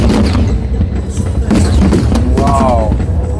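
A Hong Kong fireworks display booms and crackles loudly in a continuous dense barrage, with deep thuds and sharper bursts over a noisy crowd.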